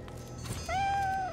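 A single drawn-out cat meow rises and holds briefly, clear and close, over a low game ambience in Divinity: Original Sin 2.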